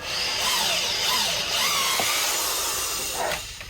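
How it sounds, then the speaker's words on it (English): A power drill bores a hole into a wooden golf club, giving a loud, steady high whine that runs nearly four seconds before cutting off, with no talking. "I drilled it a little bit of the ways in."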